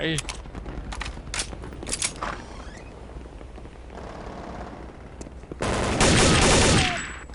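Gunfire in the video game Counter-Strike: Condition Zero, with bursts of shots near the start and a loud sustained volley toward the end, under a player talking.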